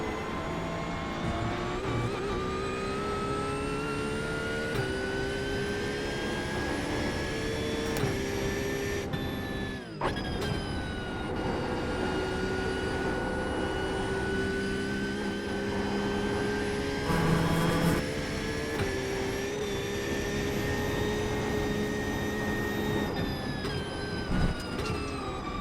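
A Ford Mustang GTE race car engine in iRacing on the Nürburgring Nordschleife drones steadily at high revs throughout, its pitch shifting with gear changes and one brief dip, loud and continuous with no talk.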